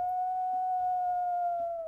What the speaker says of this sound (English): I always love every single howl.